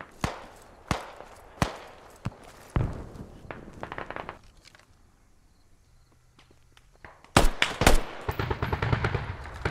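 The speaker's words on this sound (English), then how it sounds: "It looks like it was just one guy shooting people across the street." Military video game gunfire crackles in sharp single shots and rapid bursts, pauses in a quiet lull, then erupts again in a heavier volley near the end, with no speech.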